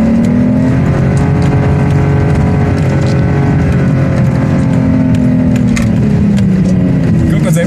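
Turbocharged Lexus GS300 engine held on the brake during a drift, a loud, steady roar with sustained high revs and tyre noise throughout, no clear speech.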